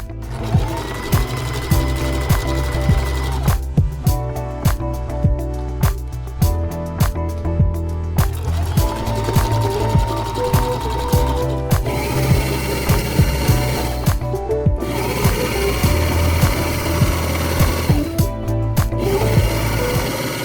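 A sewing machine runs a zigzag stitch along a stretch fabric waistband, its rapid, steady needle clatter loud and close, pausing briefly a few times before resuming.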